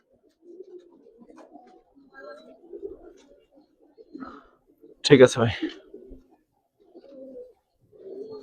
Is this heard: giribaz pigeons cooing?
yes